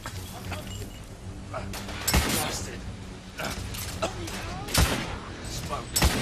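Grenade and gunfire in The Order 1886, a cluster of sharp blasts and shots cracking between quieter moments, with a loud burst near the middle and another toward the end, someone talking throughout.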